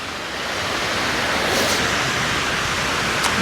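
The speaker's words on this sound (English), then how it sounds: "here we find ourselves at the Lower Dam, and if you look down here, you will see this spillway" Constant loud roar of water pouring over the Lower Dam spillway, a dense hissing rush heard from above with no breaks.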